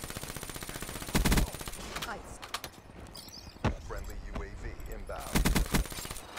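An automated sentry gun fires in a Call of Duty: Black Ops III multiplayer match, rapid loud bursts repeating several times amid the steady clatter of other gunfire and game noise, with voices talking throughout.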